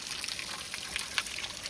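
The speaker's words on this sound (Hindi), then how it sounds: "आपको दिखेगा भी नहीं कहाँ से आ रहा है ये पानी, एकदम छन के पूरा नेचुरल पानी" Natural mountain spring water trickling from between rocks near Dharamshala, a faint, steady, close dribble with light splashy bursts and no voices.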